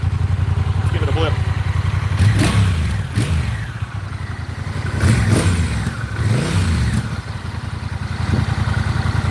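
A Honda motorcycle engine idles close by and is blipped with the throttle, swelling in a few rising revs and falling back, while a person talks over it.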